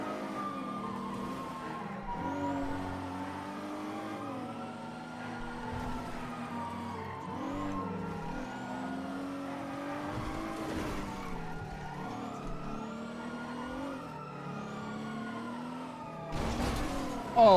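A car driven in a video game, its engine whining up and down through repeated revs and shifts, with squealing tires and skids, ending in a sudden loud crash-like burst.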